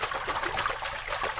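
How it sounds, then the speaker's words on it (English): Water trickling and splashing from a small solar-powered garden fountain, a close, continuous bubbly dribble with slight fluttering pulses and no voices. "The trickling sound of water creates such peace in my life"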